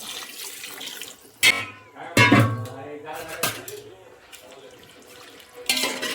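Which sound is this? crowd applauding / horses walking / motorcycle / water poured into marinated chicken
water poured into marinated chicken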